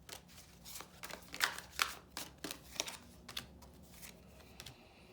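Tarot cards being shuffled and drawn by hand, giving close, crisp riffles and flicks in quick irregular bursts with soft handling noise between them and no voices.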